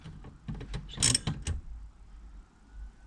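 A 12V battery terminal on a 2013 Toyota Estima Hybrid AHR20 being tightened: a quick run of close ratcheting clicks from a hand tool, then quiet.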